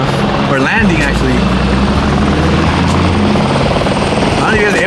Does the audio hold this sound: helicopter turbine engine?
yes